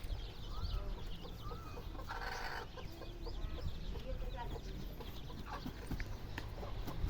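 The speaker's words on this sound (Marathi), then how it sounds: "फायटर कोंबडा आहे हा पहा खूप चावतो हा" A fighting rooster clucks in short bursts over a steady background hiss, fairly faint, with a brief louder squawk partway through.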